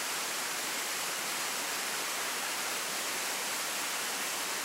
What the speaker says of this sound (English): I've just got to try and show you this absolutely amazing waterfall